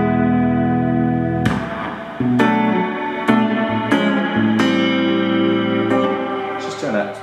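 Guitar chords strummed every second or so through a reverb pedal on its modulate setting, each ringing out through a shimmering, wavering reverb that washes and lingers between strikes.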